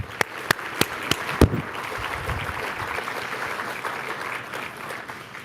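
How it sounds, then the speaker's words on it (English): Applause breaks out from a conference audience honouring an events committee at an annual awards morning, a few sharp claps up front before settling into steady, moderately distant clapping that continues throughout. "so let's give them a round of applause"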